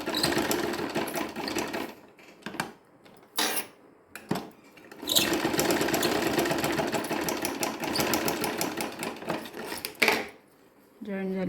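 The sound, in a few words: sewing machine stitching a strip onto a blouse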